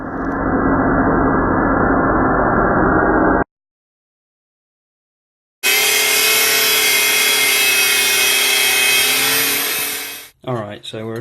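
A stainless steel bar has a small square cut off its end while hand forging a Damascus knife: a loud continuous cutting roar, then a gap of silence, then a brighter, harsher grinding run that stops abruptly, ending with brief scraping.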